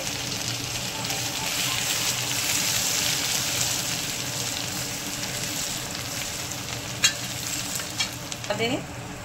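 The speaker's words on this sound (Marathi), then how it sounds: "मोहरी घातलेली आहे, त्यामध्ये लसूण, जिरा, अद्रकचा पेस्ट घातलेला आहे" Garlic, cumin and ginger paste frying with mustard seeds in hot oil for a homemade rajma curry, a steady loud sizzle throughout with a few stirring clinks near the end; no one talks.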